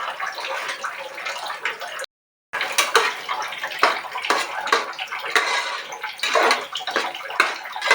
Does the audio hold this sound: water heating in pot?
yes